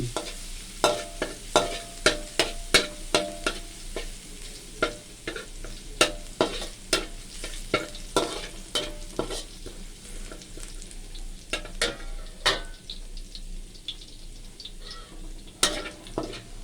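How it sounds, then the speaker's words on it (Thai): Garlic sizzles steadily in a hot pan while a utensil scrapes and taps repeatedly against the metal, no voices. "แล้วก็เจียวกระเทียมให้หอมก่อนนะทุกคน"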